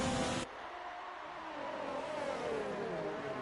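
Race car engine in an F1 video game, United States Grand Prix, rising in a sustained whining drone as the car pulls out to overtake, loud and steady with commentary faintly underneath.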